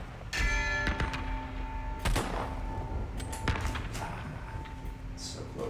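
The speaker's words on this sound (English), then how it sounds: "So yes, there are 3 bells." Bells struck one after another in the VR game The Gallery: Call of the Starseed, ringing tones with lingering sustain and several sharp strikes over a steady background.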